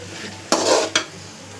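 A spoon stirs onions sautéing in a pan before rice is added, giving two short scraping, sizzling strokes over a quiet background hum.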